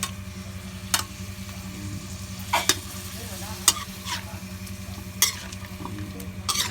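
Food frying in a pan while being stirred, a continuous low sizzle broken by sharp utensil clacks against the pan at irregular intervals, close and clear, with no speech.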